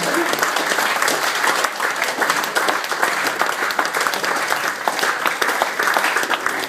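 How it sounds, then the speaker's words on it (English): Dense, steady applause from a banquet crowd at a rugby league club's 100th anniversary dinner, clapping filling the room without a break for several seconds. "Accept the applause."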